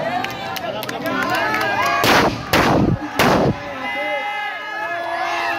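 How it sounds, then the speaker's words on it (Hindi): Firecracker bombs burst during a staged burning of Lanka at a Hanuman festival performance, with three loud, close explosions in quick succession over crackling fireworks and a murmuring outdoor crowd. "इसमें बम लगाए हुए कृपया पीछे हट जाए।"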